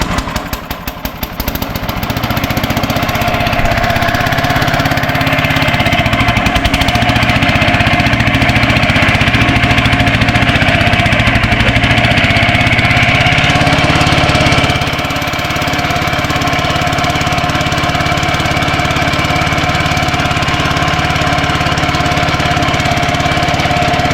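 An old Lull forklift engine runs on choke with a badly squealing bearing, a loud, steady, rough chug that continues for the whole stretch and eases slightly partway through.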